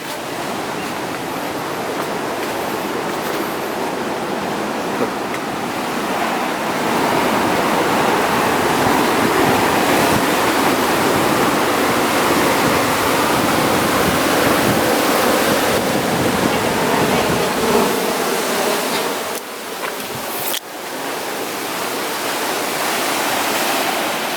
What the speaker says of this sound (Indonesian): Tuh, ombaknya lumayan tinggi juga ya.